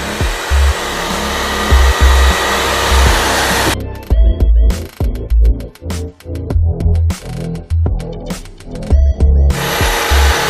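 A hair dryer blows over a third Mod Podge hard coat mixed with baby powder on an RC army personnel transporter model, its loud steady whir broken by brief stops and restarts partway through.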